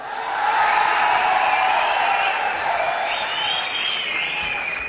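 An audience applauds at an event stage show, a dense steady wash of clapping and crowd noise holding at full strength throughout, loud and close with no pauses.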